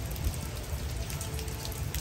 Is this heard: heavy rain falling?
yes